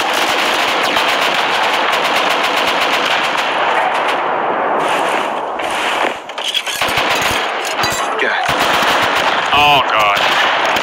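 Sustained rapid automatic gunfire in the video game Rust, loud and close, streaming through most of the stretch as a turret is shot, with brief gaps and a few sharper chirping game effects near the end.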